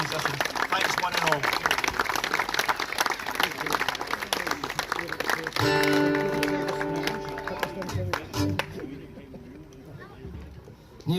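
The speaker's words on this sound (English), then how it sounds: "I think it would be great if we could give a round of applause for the people in the society who have organised this today" A crowd at an outdoor Society of William Wallace commemoration in Elderslie claps in a sustained round of applause that fills the clip, dense and steady before tapering off as a tonal sound rises midway.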